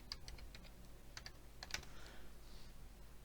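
Faint keys clatter on a computer keyboard in short irregular bursts of taps with brief pauses between them, heard alone in a quiet room.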